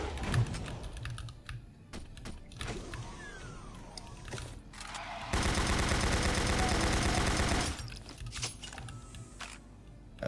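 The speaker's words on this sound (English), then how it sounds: "This calls for a grenade launcher." Grenade launcher firing in Doom 64 during a fight with a Baron of Hell, scattered sharp bursts and thuds followed by a loud, dense two-second roar of blasts, then quieter clattering.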